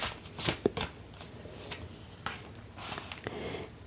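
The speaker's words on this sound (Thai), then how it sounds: "เดี๋ยวเรามาเปิดไพ่ไปพร้อมๆกันเนาะ" Tarot cards are shuffled and handled at a reading, giving several soft, papery riffles and flicks in uneven bursts, close by and fairly quiet, with no one speaking.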